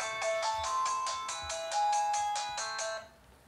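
A mobile phone ringtone plays a repeating electronic melody in quick regular pulses for about three seconds, moderately loud and unaccompanied, then cuts off.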